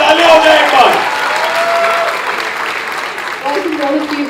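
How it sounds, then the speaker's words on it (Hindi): Applause fills the hall at a short film competition awards event, with crowd clapping under loud amplified voices and some musical tones rising over it. "जोरदार तालियां हो जाए एक बार."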